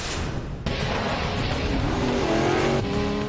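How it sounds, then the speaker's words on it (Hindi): Motorbikes racing in a chase scene, engines roaring and revving loudly with rising whine and a sharp cut in intensity partway through, tires squealing. "बाइक चेसिंग के ये दो वीडियो देखिए।"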